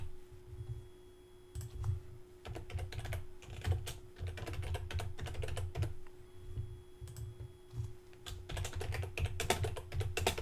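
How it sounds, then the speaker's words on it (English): Rapid typing on a computer keyboard while filling in a website form, a quiet, close, irregular patter of key clicks in quick bursts with short pauses and no talk. "I'm going to type in some fake information here."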